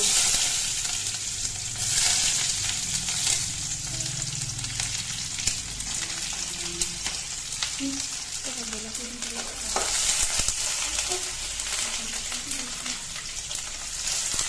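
Chopped onions and green chillies fry in hot oil with five-spice (panch phoron) in a home kitchen, a steady crackling sizzle with occasional stirring scrapes and faint background voices.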